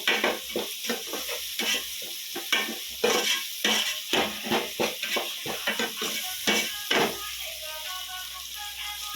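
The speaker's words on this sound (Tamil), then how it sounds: "இந்த மசாலா பூரா மசால் வாசம் போகிற வரைக்கும் நல்லா வதக்கிடுவோம்." Masala sizzles and fries in hot oil in a pan for drumstick poriyal, with repeated close stirring scrapes and clatters of a spoon against the pan over a steady sizzle.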